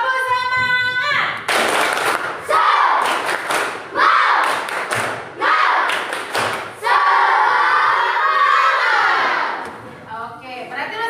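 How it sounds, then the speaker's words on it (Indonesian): A classroom group performs a rhythmic spirit clap in several sharp bursts separated by short gaps, loud and close, with voices speaking and chanting between and over the clapping. "kita tepuk semangat dulu"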